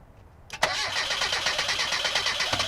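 A car engine running on 100% octane booster, with gum still in the fuel lines, cranks briefly, then catches with a sharp burst and settles into a steady, close running idle.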